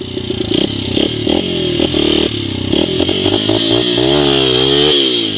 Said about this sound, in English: So here's the clutch. I'm in neutral, start going forward.